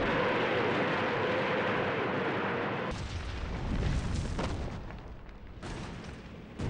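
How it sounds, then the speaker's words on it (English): A World War II Soviet rocket launcher barrage, Katyusha "Stalin's organs", pounding enemy lines, a sustained roar of launches giving way to heavy rumbling booms and scattered blasts, loud and continuous. "the Soviets obliterate the enemy's lines, pounding them with the rocket launchers they call Stalin's organs"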